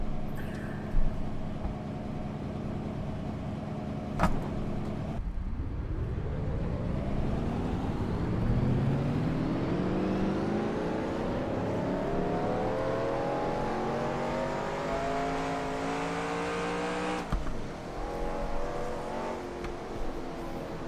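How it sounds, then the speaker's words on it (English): Race car engines at the 1996 Daytona 500 fire up and rev together, a loud rising roar of many engines climbing in pitch and holding a sustained drone with an idling rumble beforehand. "Drivers, start your engines!"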